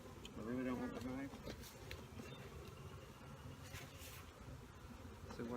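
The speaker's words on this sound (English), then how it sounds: "We've got a few more residual bees in here." Bees hum in a dense, steady drone inside a hive during a hive upgrade, close and continuous, with a person talking over the buzzing.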